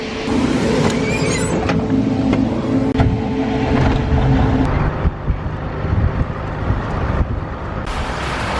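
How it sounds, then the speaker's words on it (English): A farm truck engine runs steadily and loud and close, a continuous broadband rumble with a brief shift near the middle and wind buffeting the microphone throughout. "fire up that truck, and go grab a load from them just to help them catch up"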